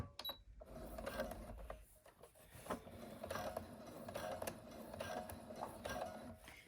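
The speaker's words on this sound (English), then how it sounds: "I'm just going to do a straight stitch first." A sewing machine runs a straight stitch on a satin lined bonnet, a faint, close, rhythmic whirring and ticking of the mechanism that keeps going for several seconds after a brief pause at the start.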